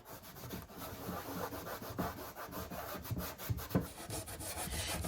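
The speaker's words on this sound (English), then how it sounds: "As I'm rubbing with my clear wax, I'm also working to kind of feather the black out into the center of the piece." A rag rubs clear and dark wax into a wooden side table in quick back-and-forth strokes, a close, soft, scuffing friction sound, with no talk.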